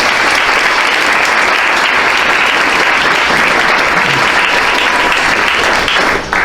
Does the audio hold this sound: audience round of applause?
yes